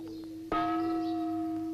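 A gong at the keeper's water clock in Bundi is struck once, giving a sharp metallic hit that settles into a long, steady, bright ring holding at full strength over a faint background hum.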